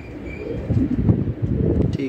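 Racing pigeons at a Kolkata pigeon tournament coo close by in low, throaty murmurs, with a few faint chirps and people talking alongside.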